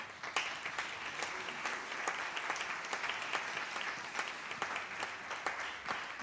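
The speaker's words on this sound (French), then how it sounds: "On peut les applaudir, inspirants." An audience applauds the advisers at an architecture event, a steady, dense wash of many hands clapping at moderate distance that keeps going throughout without a break.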